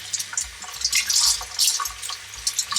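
Cold tap water runs steadily through a metal strainer holding chili seeds, with splashing and gurgling shifting as the strainer is moved beneath the stream.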